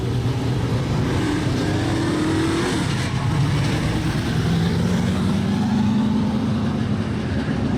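Super Sedan race cars roar past on a speedway track at Rockhampton, engine pitch rising and falling as they sweep by on the last lap, with a steady, loud crowd-like rumble underneath.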